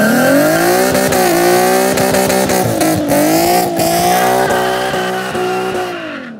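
A tuned Nissan 370Z Nismo runs a burnout: a loud, close engine revs hard with a wavering, harmonic drone while the tires squeal and skid under it, holding strong for about six seconds before easing off.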